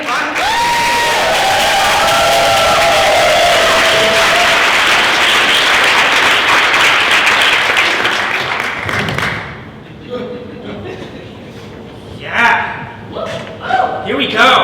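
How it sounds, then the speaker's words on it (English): A large audience at a FEDtalks event applauds and cheers a speaker being welcomed onto the stage, with loud, dense clapping for about nine seconds that then thins into scattered claps and whoops. "would we all clap Gia Drew from EqualityMaine on"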